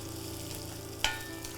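Onions and slit green chillies fry in a pan for kadala curry, a soft steady sizzle with one sharp clink partway through, close and quiet, with no voices.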